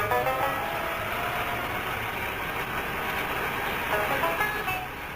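A Pinzgauer all-wheel-drive off-road vehicle with the differential locked, working through difficult terrain, gives a steady, continuous engine drone that stays at an even level throughout, with no talk.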